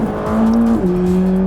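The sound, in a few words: rear-wheel-drive budget supercar engine, sounds like a race car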